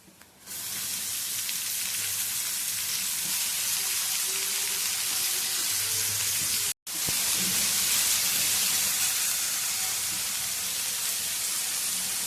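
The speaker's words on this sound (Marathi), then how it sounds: "आता भाजी आपण चिरून घेतलेली ती घालूया" Chopped wild leafy greens (pathri) hit a hot pan and burst into a loud, steady hissing sizzle that holds throughout, with a single brief dropout midway and no talk.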